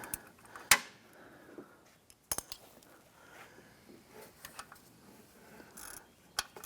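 A bolt being snugged down with a ratchet during a timing belt replacement on a 2004-2008 Acura TL: scattered sharp metallic clicks and a few louder clanks with quiet gaps between, close by, no speech.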